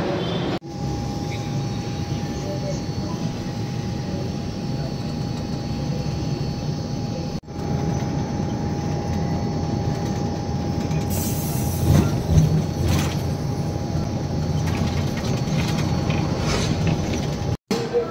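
Continuous rumble of a metro train in motion heard from inside, with a steady mechanical hum, faint whine and occasional clicks over the rails.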